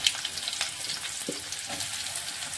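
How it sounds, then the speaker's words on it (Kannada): Chopped onions and curry leaves fry in hot oil, a continuous close crackling sizzle with a couple of light spoon taps as the mix is stirred, and no speech. "ಇದು ಇವಾಗ ಚೆಂದಾಗಿ ಚಮಚಲ್ಲಿ ತಿರುವಿ ಸ್ವಲ್ಪ ಈರುಳ್ಳಿ ಕಲರ ಚೇಂಜ್ ಆಗೋ ತನಕ ನಾವು ಇದನ್ನು ಫ್ರೈ ಮಾಡ್ಕೊಳ್ಳೋಣ"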